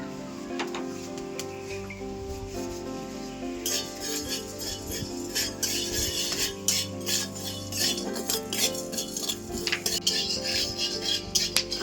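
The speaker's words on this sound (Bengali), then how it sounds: "এগুলো আমি শুকনো খোলায় ভেজে নেব আর দিয়ে দেবো একটু লবণ" Cardamom, cinnamon and whole cumin seeds dry-roasting in a dry pan, stirred with a utensil that gives light clinks and scrapes against the metal, close and fairly quiet.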